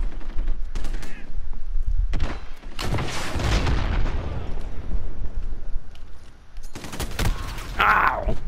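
Rocket impact and gunfire in the video game Modern Warfare during a 2v2 Gunfight match: heavy booming blasts and bursts of shots keep the mix loud throughout, with several sharp explosive hits near the start and end.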